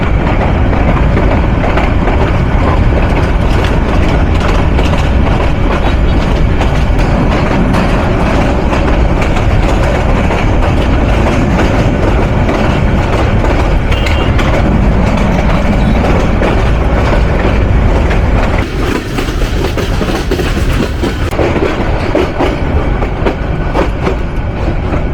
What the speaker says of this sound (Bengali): আপ অগ্নিবীণা এক্সপ্রেস বৃহত্তর বিভাগীয় জেলা শহর ময়মনসিংহ রেলওয়ে জাংশনে প্রবেশ করলো